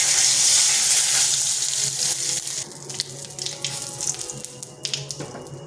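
Whole cumin and a bay leaf hit a little hot oil in a pan, giving a steady, close hiss of frying that softens midway into a patchy crackle and fizz.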